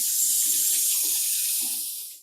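Tap water runs hard into a kitchen sink while Brussels sprouts are rinsed, a steady bright hiss with faint splashing that cuts off at the end.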